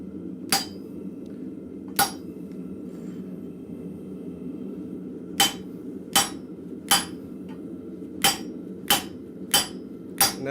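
A blacksmith's hammer strikes hot metal while forging flat bit tongs, ringing in sharp, bright, irregular blows spaced a second or so apart over a low steady forge roar, with no talk.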